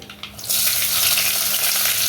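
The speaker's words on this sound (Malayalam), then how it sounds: "കാൽ ടീസ്പൂൺ ഉലുവ അര ടീസ്പൂൺ കടുക് രണ്ട് മൂന്ന് വറ്റൽമുളക് കടുക് പൊട്ടി വന്നിട്ടുണ്ട്" Mustard seeds, fenugreek, dried red chillies and shallots fry in hot oil for a tempering, starting quietly and then bursting into a loud, steady sizzle with faint crackles.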